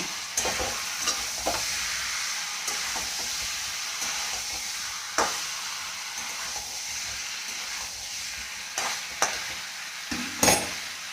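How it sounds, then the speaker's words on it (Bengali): Potatoes with peas and coriander are sautéed in a pan for Bengali aloo dum, giving a continuous close sizzle broken by scraping stirs of the spatula at irregular intervals. "পাঁচ মিনিট ধরে কষাবো।"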